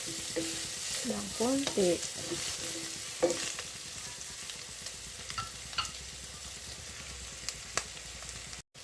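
Bicol Express being stirred and fried in a pan, a constant sizzle punctuated by scattered scraping clicks, with a brief spoken voice early on.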